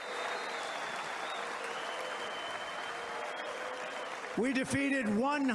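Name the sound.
audience applauding at a political speech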